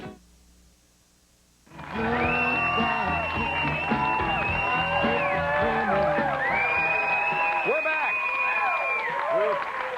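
A late-night talk show studio audience roars after a quiet moment, with loud sustained cheering, whooping and whistles that keep going for several seconds, a full crowd close by.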